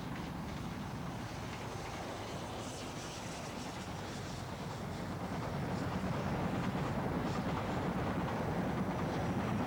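An Inter-City 125 high-speed diesel train passes at a steady, muffled distance, a broad continuous rumble and hiss that swells slightly toward the end, with no voices.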